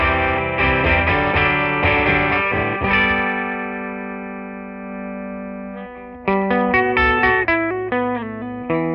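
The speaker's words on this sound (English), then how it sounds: "You can hear some of that soft clipping I'm talking about." Halberd guitar effect pedal with gentle soft-clipping overdrive on an electric guitar, strummed chords ringing out, a long sustained chord, then a fresh burst of picked chords, loud and alone with no talk.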